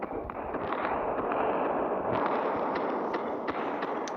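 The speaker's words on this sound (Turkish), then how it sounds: "Çekirdeği patladı." Planet core blowing apart in the space-destruction video game Solar Smash: a dense, continuous roar of explosive crackling and rumbling, loud and sustained throughout with small bursts popping on top, no talking.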